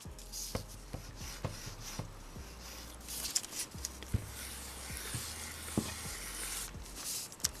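A hot iron passes over melting Artkal mini plastic beads, making a dry rubbing scrape with a run of sharp, irregular clacks, close and moderately loud, with no voices.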